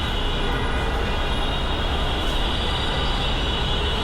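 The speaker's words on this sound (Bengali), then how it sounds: "আমি একই সাইডে আছি কিন্তু পিছন দিকে চলে আসলাম যেন ট্রেনটা ভালো করে দেখাতে পারি" A Dhaka metro rail train at Karwan Bazar station gives a loud, steady, close rumbling roar with broadband rush and no distinct pauses, no voices.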